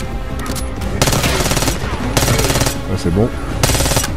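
Rapid automatic gunfire in Call of Duty Black Ops 6, several loud bursts of machine-gun fire separated by short pauses, with someone speaking briefly between them.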